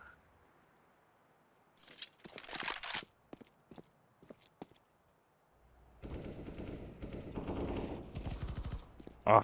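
Bursts of gunfire in Counter-Strike: Global Offensive crackle at moderate distance, with a short rapid volley, scattered single shots and clinks, then a longer sustained stretch of firing.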